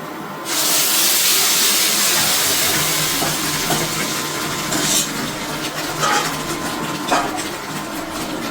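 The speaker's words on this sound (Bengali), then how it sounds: "এই পর্যায়ে আমি কিন্তু আগে থেকে সেদ্ধ করে রাখা এই মুগের ডালটা আমি এখন দিয়ে দেব।" Boiled mung dal hits a hot fried spice tempering, bursting into a loud, sustained hiss and sputter that starts abruptly after half a second and stays strong, with a few brief crackles.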